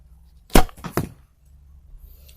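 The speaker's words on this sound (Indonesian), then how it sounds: "Pertama kita coba tembakan pertama terlebih dahulu teman-teman sebelum kita mengkoreksi tembakan berikutnya." An arrow loosed from a traditional bow at a target during accuracy practice, heard as a sharp release snap followed quickly by two further close thuds, then quiet.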